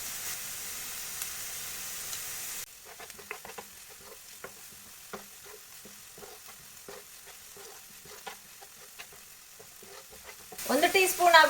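Chopped onions sizzle and fry in a pan with salt for a whole chicken masala fry, with steady frying hiss, repeated sharp stirring scrapes and clicks, and a louder burst of sizzling at the end.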